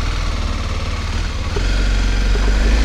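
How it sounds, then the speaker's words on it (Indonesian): A 2017 Kawasaki Ninja 250 SL motorcycle engine idles close by with a steady low rumble and a thin high whine on top, the sound alone with no voices. "Di bagian mesin itu ada seperti desingan gitu ya, jadi suaranya ada treble-nya."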